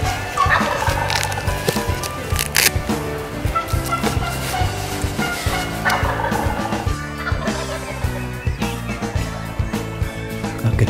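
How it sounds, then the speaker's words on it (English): Wild turkeys gobble repeatedly from a ridge in the woods, with as many as fifteen gobblers sounding off. The loud, rattling calls overlap and answer each other, some close and some farther off. "I could hear as many as 15 gobblers sounding off this morning"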